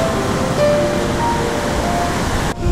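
Waves of the winter sea rolling onto a Korean beach, a steady, loud wash of surf that continues unbroken before cutting off abruptly near the end.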